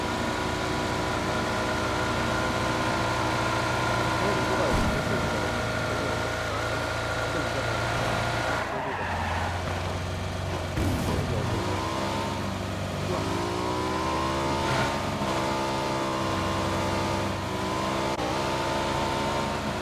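A car engine in the Battlegrounds (PUBG) game drones steadily throughout, shifting gears and revving with rising pitch sweeps, loud and continuous while players talk over it at times.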